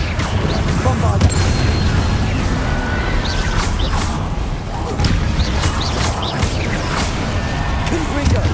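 A Bombarda blasting spell explodes in the Hogwarts Legacy video game during a fight against Inferi, with booms and crashes layered over constant dense battle noise and shouted spell names.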